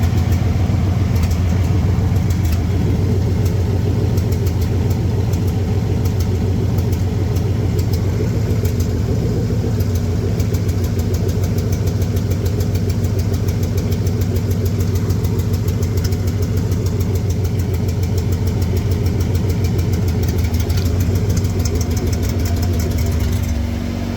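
A boat engine for a Land'N Sea boat idles steadily and loudly for the whole stretch, a constant low rumble with no breaks and no voices.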